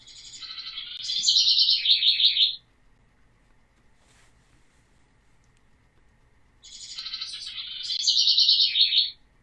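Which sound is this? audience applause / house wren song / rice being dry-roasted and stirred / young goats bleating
house wren song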